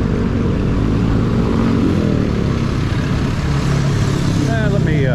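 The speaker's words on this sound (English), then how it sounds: "You got motorcycles and stuff that shoot between the vehicles." Busy traffic noise in Angeles with engines droning and a motorcycle revving past as motorcycles weave between vehicles, a constant roar of vehicles close by.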